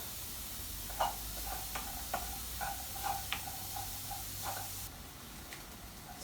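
Mince frying and caramelizing in a pan with chopped onion and green pepper, a constant sizzling hiss broken by a regular series of light scraping stirs, close by and moderately loud, no talk.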